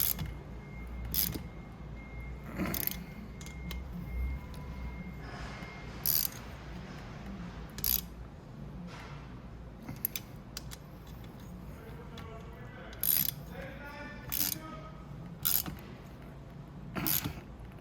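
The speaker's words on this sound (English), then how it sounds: "you don't want to go overly tight on these because you'll just strip the bolts" Hand ratchet clicking in short bursts while tightening bolts on a Venom 125cc engine during a reverse gear pack and idle bearing repair, with about eight separate clicking runs spread across a quiet workshop.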